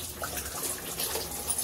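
Running tap water splashes steadily over freshly scrubbed dishes being rinsed at a sink, a continuous close hiss and patter with no voices.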